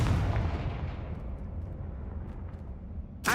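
A Confringo blasting spell in the Hogwarts Legacy video game lets out a loud, broad explosive burst that rumbles and fades over a few seconds, and a second sharp blast hits at the very end.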